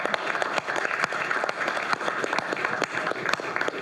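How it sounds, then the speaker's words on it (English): An audience claps, with individual hand claps standing out within a moderate, steady round of applause. "Can everyone give Michael and Lisa a round of applause?"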